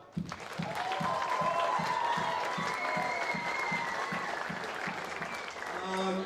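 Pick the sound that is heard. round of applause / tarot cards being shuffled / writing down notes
round of applause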